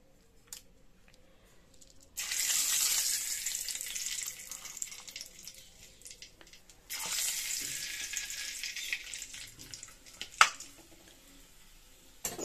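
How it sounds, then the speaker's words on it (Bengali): Bay leaves, crushed cardamom, cinnamon and cloves hit hot oil with two bursts of sharp, hissing sizzle that fade to a softer crackle, punctuated by small clicks and one louder knock. "আমি তেলে 2টো তেজপাতা দিয়ে দিলাম।"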